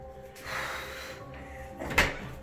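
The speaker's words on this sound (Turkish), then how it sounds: "Ben çelik kapıyı açacağım sen de hemen al dışarı atalım onu." A steel door opens with a faint creak and scrape, ending in a sharp metallic clunk, heard fairly close in a quiet room.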